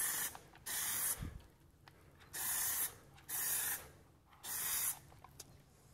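Aerosol can of Plasti Dip sprayed in four short bursts over car emblems, each hiss lasting about half a second to a second with brief pauses between, fairly close and alone.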